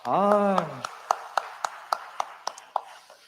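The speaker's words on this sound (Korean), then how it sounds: "우리 밥하는 분들을 위해 격려의 박수 합시다" In a church service, a congregation claps in a steady, even rhythm of distinct, fairly soft claps after a voice briefly speaks.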